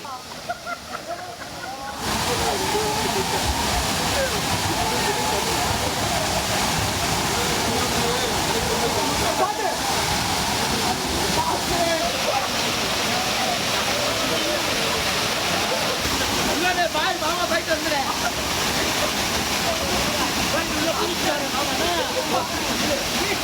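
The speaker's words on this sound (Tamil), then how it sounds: "ஆர்ப்பரித்து கொட்டும் அகஸ்தியர் அருவியில்" Agasthiyar waterfall near Papanasam gushing down in a steady, loud roar of rushing water that fills the whole stretch after a brief quieter start.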